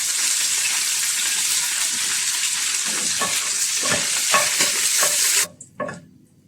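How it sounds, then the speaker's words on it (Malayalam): Curry leaves fry in hot oil with a loud, steady crackling sizzle, broken by a few spoon scrapes and stirs near the end before the sound cuts off abruptly, the spicy chicken kondattam being prepared. "കറിവേപ്പില ഒന്ന് ഫ്രൈ ചെയ്തെടുക്കും"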